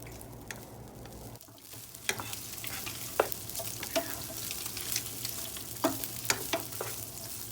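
Fried rice with carrots is stir-fried in a hot pan, a steady sizzle broken by sharp spatula clicks and scrapes at an irregular pace, close up and moderately loud with no talking.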